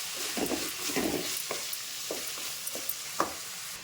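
Turmeric, rock salt and curry leaves being sautéed in a pan, with soft sizzling under a few spaced stirring scrapes and light taps, close by and fairly quiet.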